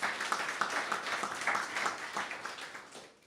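An audience at an anniversary symposium gives a round of applause, a fairly faint, steady patter of many hands clapping throughout.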